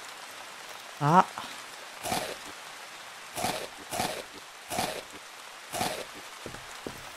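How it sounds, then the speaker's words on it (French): Rain falls in the video game Backwoods Town, coming in soft, repeated bursts of patter, with a short spoken exclamation near the start. "Oh, il pleut."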